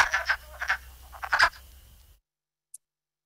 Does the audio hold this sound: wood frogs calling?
yes